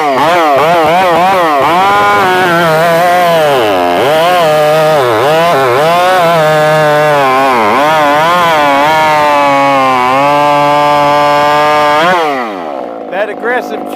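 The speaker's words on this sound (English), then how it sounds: "So let's go ahead and get a couple cuts in on it." Husqvarna 55 chainsaw with a ported Hyway cylinder at full throttle, loud and close, the engine note rising and dipping repeatedly as it bites into wood for about twelve seconds before dropping off to idle.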